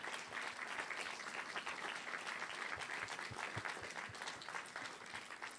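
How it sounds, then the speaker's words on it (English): A room of attendees at a Framingham city council candidates' climate forum gives sustained applause, a dense, steady patter of many hands clapping at moderate volume with no talking over it. "I want to give a final huge round of applause to our candidates for their participation"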